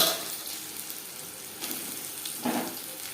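Green chilies fry with nigella seeds in oil for a mourola fish chorchori, a steady, moderately loud sizzle with a couple of brief swells as the pan is stirred, no voices.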